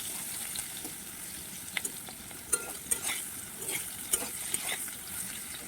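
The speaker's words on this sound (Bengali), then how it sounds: "এ পাশে আমি ভাজাও বসিয়ে দিয়েছি, অল্প অল্প করে ভাজছি" Food fries in a pan at home, a steady sizzle with occasional stirring clinks and light scraping over a continuous hiss.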